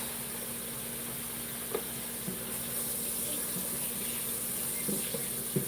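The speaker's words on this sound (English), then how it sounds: "Okay, so the spinach is getting good and rinsed." Spinach rinsed under a running kitchen tap: a steady stream of water splashes continuously at moderate volume, with a few small knocks and splashes against the sink.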